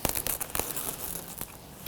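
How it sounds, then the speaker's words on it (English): Crinkly plastic film being snipped and torn with scissors, a quick burst of sharp rustling cuts close up. "We're going to grab the scissors and just cut that off."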